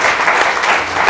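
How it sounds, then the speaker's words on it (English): Audience applause for panelists at a talk on healing buildings, a dense, loud, continuous wash of clapping from a crowded hall. "Let's give our panelists a round of applause to get started."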